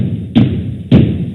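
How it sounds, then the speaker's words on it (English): An animatronic robot bangs on a closed giant door in a Five Nights at Freddy's horror story. Two heavy, muffled thuds land about half a second apart over a steady hum. "The robot banged on the door for a few seconds,"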